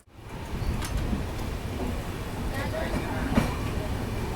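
The Antyodaya Express pulls out of Hajipur Junction in Bihar, a steady rumbling train roar with faint clanks from the carriages, continuous and fairly loud throughout.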